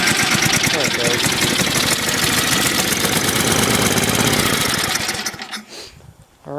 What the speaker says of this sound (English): that's been a cold start of the pieces of equipment that are still running for the winter